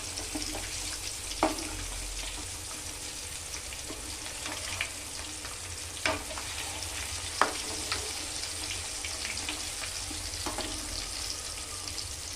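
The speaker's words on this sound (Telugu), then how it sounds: "చూసారు మంచిగా ఫ్రై అయిపోయింది. ఆయిల్ బాగా హీట్ అవ్వాలి." Chicken deep-frying in hot oil, a steady close sizzle with occasional clicks and pops of turning or stirring, no voices.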